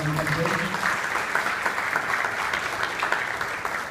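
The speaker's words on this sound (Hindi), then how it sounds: "उनको प्रणाम करके तालियों के गड़गड़ाहट से उनका अभिवादन करते।" An audience at a Bhagwat Puran discourse in Charlotte, North Carolina claps to greet the speaker and her guru, a sustained, full round of applause that holds steady and loud, with a few voices mixed in.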